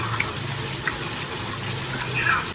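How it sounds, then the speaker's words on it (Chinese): Water running and pouring into a bowl for making yeast dough, a steady soft splashing stream heard up close and alone. "碗中加水，倒入活性酵母，一直搅开"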